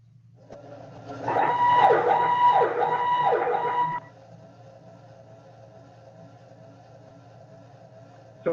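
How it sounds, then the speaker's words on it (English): A mass-notification emergency siren and horn, set off by a physical panic button, wails loudly in rising and falling sweeps for about three seconds, then cuts off and leaves a low steady hum. "scare the crap out of them with a siren and horn going off"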